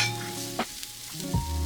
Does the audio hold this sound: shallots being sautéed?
yes